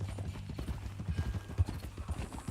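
Horse hooves clip-clopping at a walking pace in Red Dead Redemption 2, a close, irregular series of soft thuds with faint jingling tack over a low steady hum.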